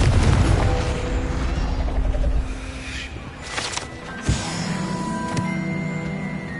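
A Confringo blasting curse explodes in Hogwarts Legacy: a loud, rumbling blast rolls on for about two seconds, then fades into a quieter background with a couple of sharp impact thuds that follow.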